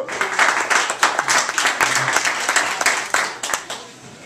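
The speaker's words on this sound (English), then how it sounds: "Y'all give it up for him. Cheer." An audience at a MLK holiday celebration in East Austin's Historic Victory Grill claps loudly for a performer, a dense burst of applause with some cheers that gradually thins out.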